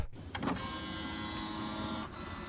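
A printer whirring mechanically in a steady motorized drone after a couple of short clicks, close and alone, captured as raw material for an experimental song.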